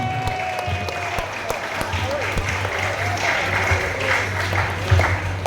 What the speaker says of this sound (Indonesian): Tepuk tangan untuk yang ini